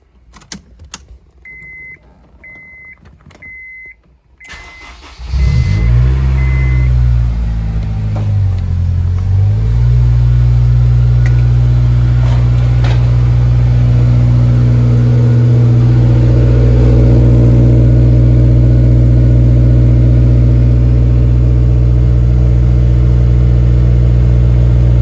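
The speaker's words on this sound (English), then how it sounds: "let's get the cold start ready right now." A 2002 Honda S2000 AP1 with an Invidia N1 exhaust is started cold. A few soft beeps and key sounds come first, then the engine catches and settles into a loud, steady idle with slight revving swells.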